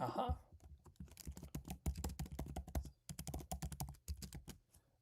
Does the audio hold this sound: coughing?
no